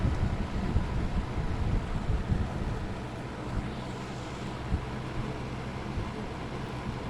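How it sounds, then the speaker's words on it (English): Vintage Penncrest box fan running on low, a steady broadband whoosh of moving air close to the microphone, with a loose knob rattling only faintly within the hum. "But other than the knob rattling every once in a while, it's pretty quiet on low."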